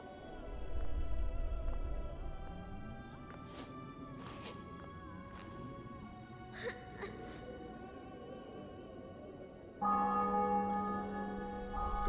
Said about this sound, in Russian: Колокола бьют в честь триумфа.